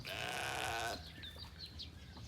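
A sheep bleats loudly and close by at an afternoon livestock feeding, one drawn-out wavering call that ends abruptly, followed by quieter pen sounds.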